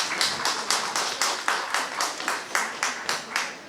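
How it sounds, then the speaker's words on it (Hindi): An audience at a college fest claps in unison, a steady, even beat of about four claps per second, fairly close and lively, lasting a few seconds without speech. "थोड़ी तालियां बज सकती हैं, है ना?"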